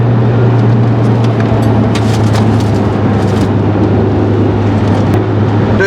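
Honda CR-V fitted with coilovers driving a twisty road, heard from inside as a constant loud engine and road roar with wind and small knocks on top.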